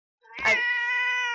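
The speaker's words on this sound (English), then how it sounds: "I'm sorry, that was my cat." A cat gives one long, loud meow at close range, opening with a brief rough burst and then holding a clear, steady tone that lasts to the end, with no voices over it.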